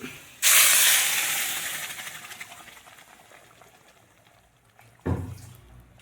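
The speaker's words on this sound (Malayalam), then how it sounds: "കടുക് വറുക്കാം." Oil hisses sharply as mustard seeds drop into a hot pan for prawn mango curry, the sizzle fading slowly over several seconds before a second loud hiss bursts near the end.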